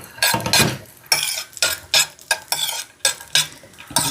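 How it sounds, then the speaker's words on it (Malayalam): Chopped almonds and cashews stirred in hot ghee, with repeated close scraping and clattering strokes of a utensil against the pan in an uneven rhythm over a light sizzle, loud and with no talking. "ഇനി നെയ്യ് ചൂടാകുമ്പോ അതിലേക്ക് ഈ നമ്മൾ അരിഞ്ഞു വെച്ചിട്ടുള്ള സാധനങ്ങൾ, ബദാം, അണ്ടിപ്പരിപ്പ് ഒന്ന് മൂപ്പിക്കുക."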